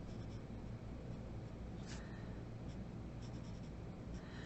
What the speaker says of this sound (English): So I'm going to erase that part right there.